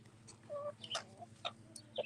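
Clucks from a domestic rooster kept alongside turkeys in a farmyard, a series of short nasal calls spread across about two seconds over a faint steady hum.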